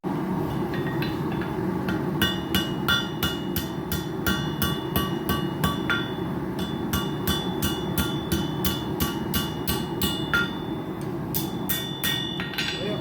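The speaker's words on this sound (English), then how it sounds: "So down here on the hidden tang part, I got to flatten it out just a little bit." Sharp metallic hammer blows flatten the hidden tang of a titanium knife on an anvil, a quick steady run of ringing strikes, loud and close over a constant background hum.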